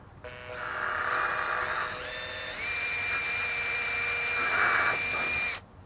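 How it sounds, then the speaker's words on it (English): A small electric drill bores an orifice hole in a Camp Chef low-pressure stove part for natural gas conversion, a close, steady high whine with slight pitch shifts running for about five seconds before cutting off. "drill straight down and slowly, and we're only going to go about an 1/8 inch down or until the drill drops through"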